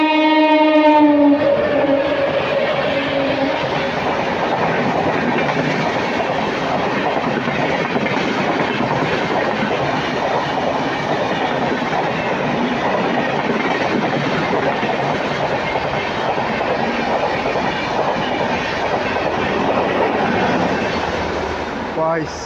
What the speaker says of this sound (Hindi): 16335 गांधीधाम से चलकर नागरकोविल को जाने वाली नागरकोविल साप्ताहिक एक्सप्रेस।